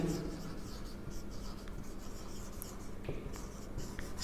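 A marker or chalk scratches and rubs across a board in a classroom, steady and close, with brief taps and strokes throughout.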